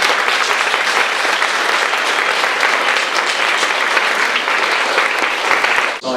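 Audience applause at an annual general meeting, a steady, dense clapping from a full room that holds evenly throughout and cuts off abruptly at the very end.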